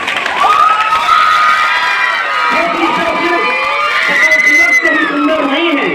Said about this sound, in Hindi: छोटी ताली।